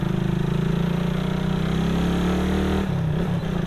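Motorcycle engines of riders gathered at a cafe entrance idle and hum steadily with a low, continuous drone, one engine note shifting near the end; no talking.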